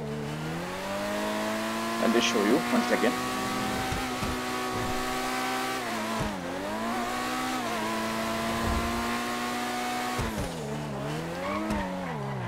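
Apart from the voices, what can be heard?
Lamborghini supercar exhaust pops in video game GTA 5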